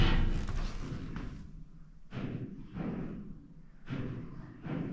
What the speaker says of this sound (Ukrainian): Мені здається, це вода стукає.